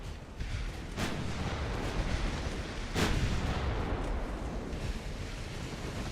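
Shell hits explode in Ultimate Admiral Dreadnoughts, a naval warfare video game, with two sharp booming impacts about two seconds apart over a steady rumbling roar of sea and wind.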